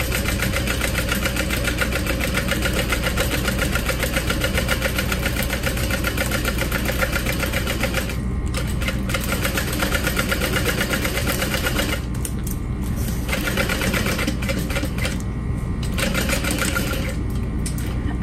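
A sewing machine runs a second basting stitch close along piping on a duffel bag, its steady mechanical hum continuing nearly unbroken with a few brief pauses.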